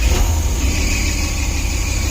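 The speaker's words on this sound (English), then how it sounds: "Let's try and start it back up, a hot start without pumping carb." Big block Chevy V8 in a 1972 Barth RV running just after a hot start, a steady low rumbling engine idle close by with a brief flare at the start, no talk.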